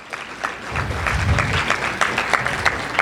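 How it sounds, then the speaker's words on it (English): A short burst of applause from a workshop audience at a Public Policy Research Institute session; it starts with a few scattered claps, then swells into full clapping that holds for about three seconds. "So give yourselves a round of applause for setting awesome goals."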